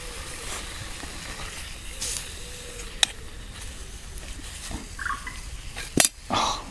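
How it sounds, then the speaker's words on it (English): Bacon fries on a Trangia camping stove outdoors in the woods, a soft, steady sizzle with scattered metallic clinks and knocks of pan and utensils, plus a few sharp taps near the end. "Somebody cooking bacon in the woods"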